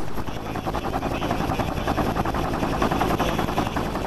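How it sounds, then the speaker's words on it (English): A helicopter hovers over the mud of the Oso landslide while rescuing a survivor, its rotor a steady, loud chopping thrum with an engine roar that stays constant throughout. "Robin Youngblood's cry for help was answered in the form of a helicopter that plucked her from the mud."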